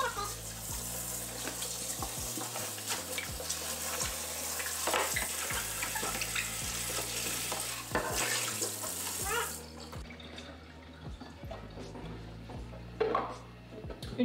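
Warm water running steadily from a kitchen tap while a Tupperware container is scrubbed by hand without soap, with rubbing and light knocking against the plastic, close by, before the flow cuts off and quieter handling follows.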